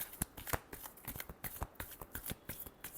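A deck of tarot cards is shuffled by hand in a quiet room, with a quick run of crisp, close riffling slaps and flutters and no talking.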